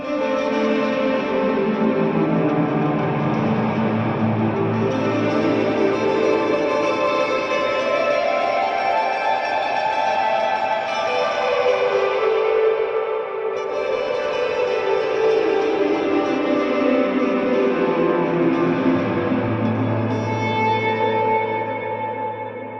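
Electric guitar played in a fast, dense shredding run through a Kurzweil KSP8 rack reverb, the notes smearing into a thick, washy, distorted wall of sound that stays loud and continuous throughout, with no talking.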